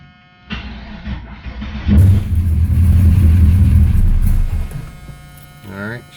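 1983 Oldsmobile Cutlass with a 416 CID LS3 V8 and Borla Pro XS 3-inch exhaust, cold, being revved: a low rumbling surge rising after a second and holding for a few seconds before settling.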